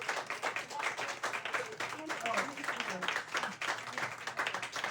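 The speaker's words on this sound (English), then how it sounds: "A round of applause for our amazing artists," Audience applauds artists at an evening artist talk event, a moderately loud burst of many hands clapping in uneven waves, continuous throughout.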